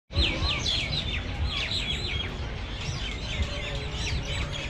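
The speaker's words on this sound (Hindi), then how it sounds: "काफी चिड़िया का आवाज सुनने को मिल रहा है ना।" Many small birds chirp and tweet continuously in an open park in Dubai, bright overlapping calls over a low background rumble.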